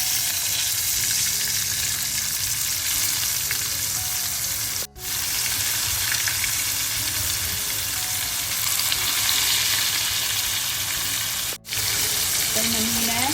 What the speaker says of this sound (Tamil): இப்போ இந்த மீனை பொரிச்சு எடுப்பேன்.